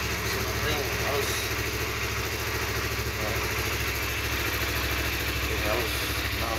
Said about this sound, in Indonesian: Mesinnya halus banget teman-teman, mesinnya halus banget ya, mesin ring halus